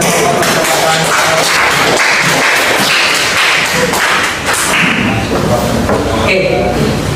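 A class applauds after a student presentation, giving loud, crisp, close-up clapping that carries on for several seconds with voices mixed in.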